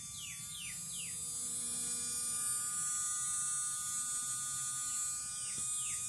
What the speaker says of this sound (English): Motor's running, guys.